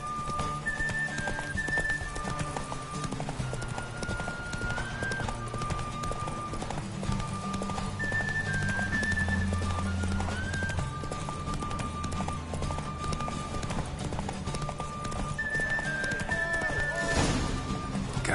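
Horse galloping in a race in The Witcher, with steady clip-clop hoofbeats throughout, occasional neighs and whinnies, and music playing underneath.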